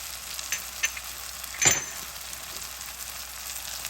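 Dry spices (kadai masala, cumin powder, turmeric and Kashmiri red chili) fry in oil in a kadai for karahi bhindi masala. A soft, even sizzle is broken by a few light taps and one louder scrape of the spoon, with no talking.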